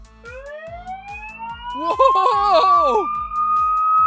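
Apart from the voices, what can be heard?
toy police car siren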